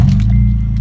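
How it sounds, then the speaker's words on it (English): An Acura RSX engine rumbles loudly and close on a cold start, with a low throbbing idle and a faint metallic jingle over it. "So I'm gonna do a quick start for you guys,"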